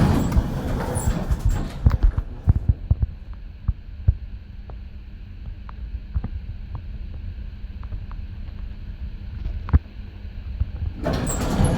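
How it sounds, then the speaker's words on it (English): Hospital lift doors open with a low mechanical hum and scattered clunks and thumps, followed by a steady drone inside the car, in a 1990s Leicester-built lift at Epsom Hospital. No one speaks. "Door open."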